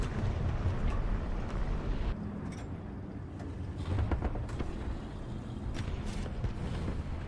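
Deep booming cannon blasts from a 105 mm Sherman tank gun in War Thunder rumble over continuous battlefield noise, with several sharp reports and distant explosions echoing through the low roar.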